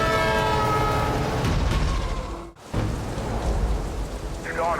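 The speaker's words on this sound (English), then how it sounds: "We got trains coming" Rain pours steadily while trains approach and a horn sounds in long held tones, with a brief dropout partway through and a rising horn blast near the end, no talking heard.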